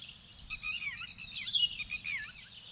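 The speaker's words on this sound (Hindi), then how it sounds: "दूर दूर तक खिले गेहूं के पौधों पर पक्षियों का झुंड टूट पड़ा है।" A flock of birds descending on a wheat field in a cartoon, heard as steady overlapping high chirps and tweets, close and fairly loud, with no talk.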